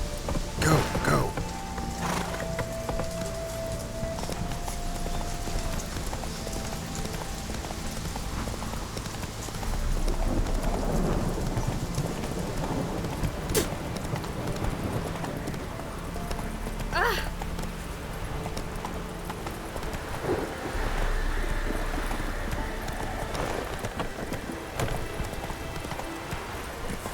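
Roach, a horse in The Witcher 3, gallops through rain with steady, rapid hoof clip-clops over a constant rain hiss, and a voice speaks now and then.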